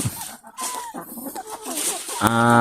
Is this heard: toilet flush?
no